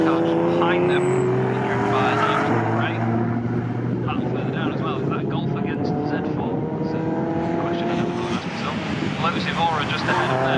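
Saloon race cars, a BMW 3 Series and a Ginetta, roar along the track at Snetterton, a loud sustained engine drone with shifting pitch as they pass, under continuous commentary.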